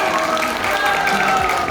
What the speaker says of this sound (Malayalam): നല്ലൊരു കൈയടിയോടെ ഞാൻ സ്വാഗതം ചെയ്യുന്നത്